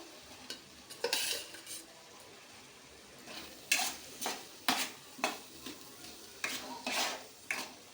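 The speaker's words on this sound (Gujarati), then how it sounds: "હલાવશું ધીમે ધીમે 5-7 મિનિટ, જ્યાં લગી આપણું તેલ છૂટું ના પડે ત્યાં સુધી." Whole stuffed onion curry with masala being stirred in a pan, with a series of scraping clinks of a spoon against the pan at irregular intervals over a faint background, no voices.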